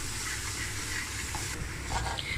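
Garlic-ginger paste sizzling as it fries in a pan, a steady close hiss with faint stirring scrapes and no talking.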